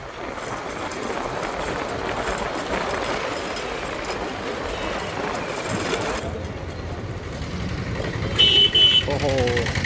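A motorcycle engine runs steadily and loudly throughout while a rider shows off bike skills on a group ride with friends, with a brief higher-pitched burst near the end.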